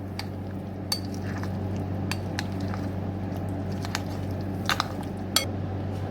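Chicken is mixed with cornflour in a bowl. A spoon scrapes and clinks against the dish in scattered sharp taps over a low, steady background hum, with no talking.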